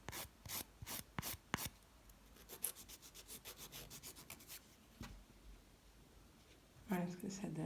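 Poly gel nails being filed with a nail file in strokes going one direction, giving a soft, close rasping rub that comes in short bursts at first and then runs steadily with a few pauses.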